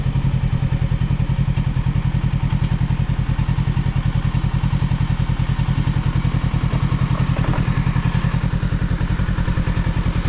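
Kawasaki 650 sports tourer motorcycle being ridden, its engine pulsing in a steady, dense rhythm close by and loud throughout, with wind noise and no talk.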